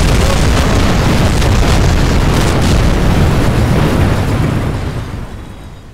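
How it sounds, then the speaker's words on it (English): Rocket blowing up in the video game Kerbal Space Program, a loud, dense roar of explosion that holds for several seconds and then fades, with no talking. "Oh my god, this is gonna blow up so bad."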